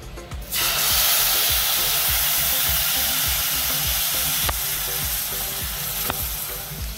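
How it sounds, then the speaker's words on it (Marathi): Vermicelli roasting in a pan over medium gas for kheer gives a steady, close dry sizzle with faint scraping stirs, and no one speaks. "ही मीडियम गॅसवरती ब्राऊन होईपर्यंत शेव भाजून घ्यायची"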